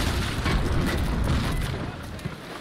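A heavy, rumbling boom of incoming cannon fire in the naval battle game Naval Action, loud and broad, fading out over a couple of seconds.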